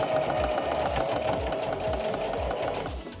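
Sewing machine stitching fabric for a cat hat, its needle running in a steady fast rhythm with a brief stutter of resistance near the end, loud and close with no voices.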